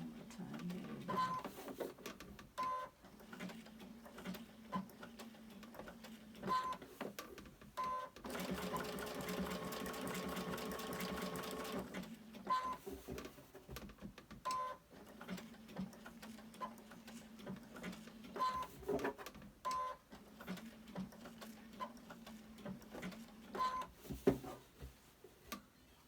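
An embroidery machine stitches a hen block in rapid, steady mechanical chattering runs, stopping and restarting with small clicks and a longer, louder stitching stretch in the middle.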